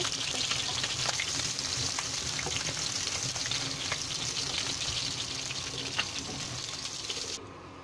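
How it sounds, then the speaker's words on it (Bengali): Continuous crackling sizzle of pointed gourd frying in oil, close and steady, with a few soft clicks and faint background hum, fading slightly at the end. "পটলগুলো দিয়ে দিয়েছি। এখন পটলগুলো ভেজে নেব আমি।"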